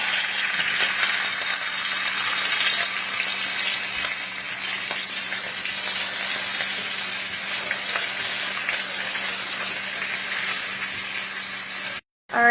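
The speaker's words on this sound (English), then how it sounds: "we're going to fry them 15 minutes on a medium heat" Chicken pieces frying in a pan over medium heat, a steady loud sizzle and crackle running without a break, then a brief drop to silence near the end before the sizzle returns.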